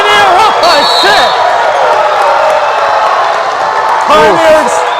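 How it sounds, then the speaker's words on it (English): A crowd at a varsity boys' high school basketball game between Greenfield and Pioneer roars loudly and steadily after a three-pointer, with shouts and whoops. A commentator's voice rises over the noise at the start and again near the end. "Pioneer's crowd is on fire right now as the Pioneer bench is hyped."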